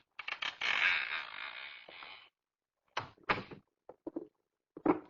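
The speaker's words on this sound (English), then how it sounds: "That door's already partially open." A door creaks as it is pushed open in a dark building in a 1960s radio drama, a long drawn-out groan at first, then several shorter creaks and knocks that come in bursts, close by with no talk.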